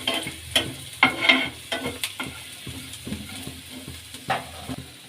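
Curry leaves crackling in hot oil while a spatula stirs the pan for a spicy mango sauce: a soft, steady sizzle punctuated by sharp scraping clinks, with no voices.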